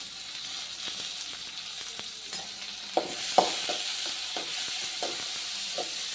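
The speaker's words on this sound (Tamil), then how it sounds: "வெங்காயம் நல்லா வதங்கணும்." Finely chopped onions sautéing in a pan for a Tamil tomato thokku, a steady sizzling hiss with occasional stirring clicks and scrapes, alone and fairly close.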